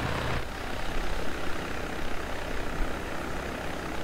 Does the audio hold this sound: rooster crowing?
no